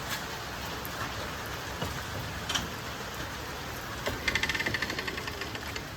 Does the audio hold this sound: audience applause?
no